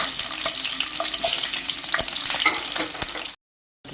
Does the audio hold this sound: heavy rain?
no